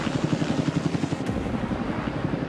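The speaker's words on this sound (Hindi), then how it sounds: "ये हेलीकॉप्टर हमारे बॉयज को ऊपर हवा में ले जाएगा" A helicopter over a private island thunders with a fast, rhythmic rotor chop, loud and close, the pulsing beat steady throughout with a continuous engine whine beneath.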